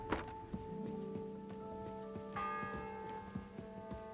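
A church bell in the video game Kingdom Come: Deliverance II tolls its sixth bell, its long ringing tones sustained and layered, with a second strike partway through, alongside soft regular footstep-like thuds.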